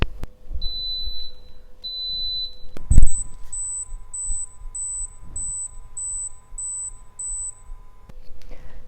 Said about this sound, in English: So it beeped 10 times.